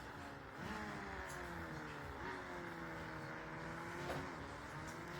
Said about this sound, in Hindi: हमने गाड़ी को भगा दिया है।